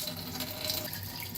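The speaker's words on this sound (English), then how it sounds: "So let's open the water." A Delta kitchen faucet, being repaired for a drip, runs water into the sink in a steady, close hiss of flowing water, alone without voices.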